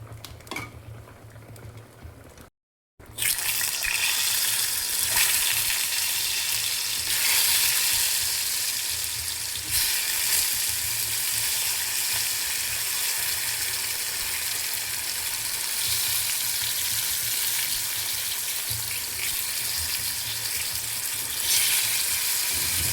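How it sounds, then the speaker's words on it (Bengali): Whole spices frying in hot oil for a simple Bengali lunch, a steady dense sizzle that runs unbroken and fairly loud after a brief dropout near the start, with no voices over it. "ততক্ষণ আমি গোটা ভেজে নেব।"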